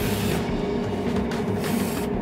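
Spray paint hisses steadily and loud and close as trim parts for an RC car are coated, one continuous spray without a break.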